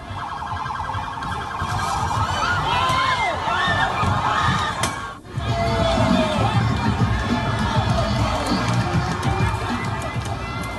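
A dense crowd of protesters screams and shouts in a Brooklyn street as two police vehicles drive into them, with a steady roar of many voices and a siren-like wail, loud and continuous with a brief dip midway.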